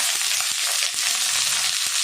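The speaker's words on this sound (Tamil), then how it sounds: "நீல வாக்கில் நறுக்குன ஒரு பெரிய வெங்காயம் சேர்த்துடலாம்" A steady, loud sizzle of sliced onion hitting hot oil, with crackling pops and faint stirring scrapes underneath.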